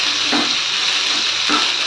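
Onions saute in a hot pan for a sorrel leaves kadaisal, giving a steady close sizzle with a few soft scrapes of stirring and no talk.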